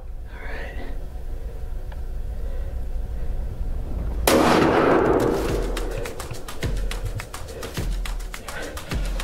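A single sharp rifle report from a Winchester rifle firing a 350 Legend straight-wall cartridge outdoors, a loud crack followed by rolling echo, with later clicks and handling noises.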